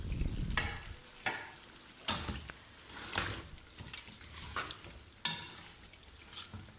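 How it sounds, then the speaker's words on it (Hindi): Onions and mutton stirred in a kadai for mutton karahi, with a steady sizzle broken by sharp scraping strokes of a spoon against the metal, about six distinct scrapes at irregular intervals, close and fairly quiet, no talking. "और ये प्याज और गोश्त हम अच्छी तरह मिक्स कर लेंगे।"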